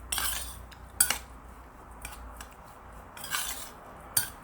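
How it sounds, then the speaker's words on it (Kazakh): A spoon stirs nuts and dried apricots together in a bowl, producing intermittent metallic clinks and scrapes against the dish with short quiet gaps between strokes, close and without voices. "Араластырып жібереміз жақсылап."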